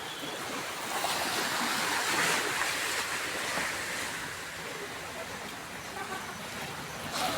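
Water at a shoreline in Infanta, Quezon, a steady rushing wash of small waves with wind buffeting the microphone, continuous and close, with no clear talk.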